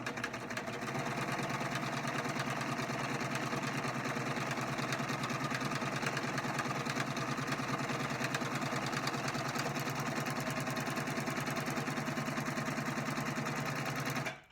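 A serger sewing machine runs steadily at high speed, a loud continuous mechanical whir and rapid stitching clatter sustained throughout before cutting off abruptly at the end.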